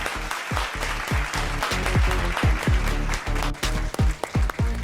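Audience clapping at a Bengali junior dance competition show, mixed with heavy, rhythmic booming drum hits that pound steadily beneath the applause throughout.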